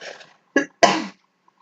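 A single sharp sneeze bursts out after a brief softer vocal sound, loud and close, then quiet.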